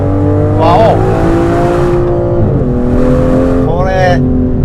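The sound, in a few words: V12 car engine revving, exhaust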